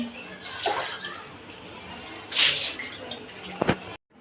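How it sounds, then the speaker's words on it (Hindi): Water splashes and drips as clothes are washed by hand on the floor at home, with short bursts of pouring and sloshing separated by quieter gaps. "तो अब मैं ये कपड़े धोने लगी हूँ, पानी भरने लगी हूँ।"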